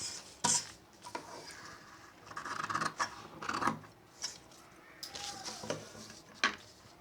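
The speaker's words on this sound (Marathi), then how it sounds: "मी जे एक्स्ट्रा आहे तेही कट करून घेते" Scissors snipping away extra cloth from a sleeve piece being cut without lining, a few close, sharp cuts and scraping against a hard surface, quiet and without talk.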